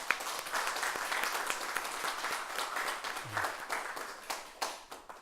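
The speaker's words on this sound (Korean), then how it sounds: "우리 주님의 다시 사심에 우리 감사의 박수를 한번 쳐드립시다." A church congregation claps together during a Sunday service, a sustained round of applause at moderate volume, thinning into a few scattered louder claps at the end.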